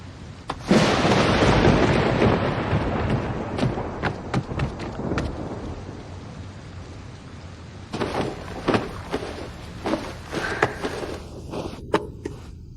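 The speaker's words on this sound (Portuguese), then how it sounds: "Está chovendo agora." Thunder rumbles loudly over falling rain, a long rolling crash at first, then scattered sharp cracks and pops, all amid a steady wash of rain noise, with no talking.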